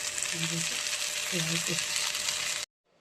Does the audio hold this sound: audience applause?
no